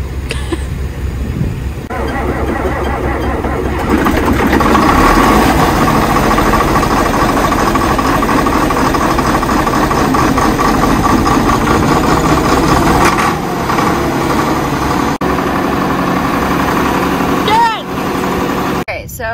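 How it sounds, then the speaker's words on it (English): A grain vac runs inside a grain bin, a loud, steady engine-like roar and vibrating drone filling the space nearly throughout, briefly dipping before resuming, with a voice heard over it at times. "grain vacs are really loud"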